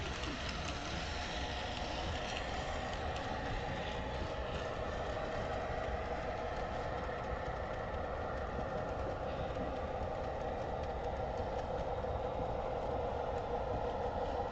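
Bachmann Santa Fe model train running on a loft layout, a steady rolling rumble with faint rail clatter that continues without a break, close by and with no voices.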